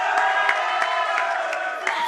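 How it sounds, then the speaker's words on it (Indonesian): An esports crowd in the MDL Arena cheers and claps between games of a Mobile Legends match, a dense roar with scattered sharp claps and shouts, heard over a steady tonal background. "Pada tepuk tangannya."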